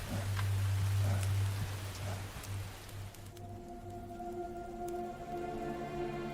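Rain falling steadily in the East African savanna during the long rainy season, a dense hiss heavy at first and then thinning out, with a low hum in the background.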